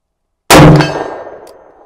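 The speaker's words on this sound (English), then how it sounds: "If you hear the steel ringing, it's because I've got it intentionally set up in front of a steel plate." A revolver bullet from a Taurus Raging Hunter .460 smacks a steel plate set behind a paper target at 50 yards, giving one loud sharp clang that rings on and slowly decays, with no talk.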